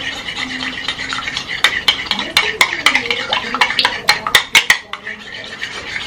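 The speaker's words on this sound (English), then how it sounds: "Just want to beat them until the egg yolk" Eggs being beaten in a bowl for French toast, a whisk or fork clattering in quick uneven strokes with sharp taps against the bowl's rim, close and fairly loud.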